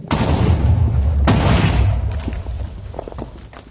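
TNT blowing a hole in a mining video game: a loud booming blast followed by a second heavy thump, then rumbling debris fading into scattered clicks, heard close up.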